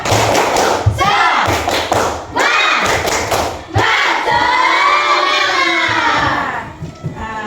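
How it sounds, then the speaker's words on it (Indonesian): A classroom of children performs a rhythmic clapping chant, loud sharp claps in patterned bursts alternating with shouted group chanting, close and energetic. "Tepuk semangat."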